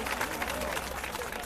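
Applause from an outdoor protest crowd welcoming a Delhi government minister, a dense steady wash of clapping with crowd noise and no distinct gaps.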